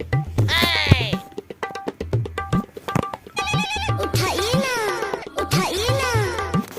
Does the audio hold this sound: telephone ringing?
yes